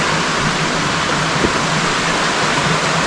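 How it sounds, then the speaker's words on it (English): River rapids in Sri Lanka rush in a loud, constant broadband roar of turbulent water, close and steady throughout, with no talking heard over it. "River Rapids."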